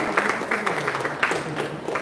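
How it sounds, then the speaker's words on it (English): An audience at a closing ceremony claps in a steady, moderately loud burst to welcome a group onto the stage, with crowd murmur mixed in throughout. "Please welcome the group with claps."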